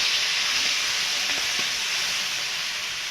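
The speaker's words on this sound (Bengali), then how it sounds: "তেলটা গরম হয়ে গেছে, আমি পেঁয়াজ রসুনটা দিয়ে দেবো।" Onion and garlic paste sizzling steadily in hot oil, a dense continuous hiss with a few faint clinks, close and fairly loud, cooking for a Bengali chana dal.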